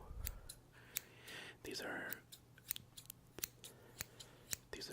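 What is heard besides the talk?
scissors snipping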